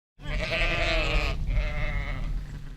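A small flock of ewes on drought-parched pasture bleats in two long, wavering calls, close and fairly loud, with no voices over them.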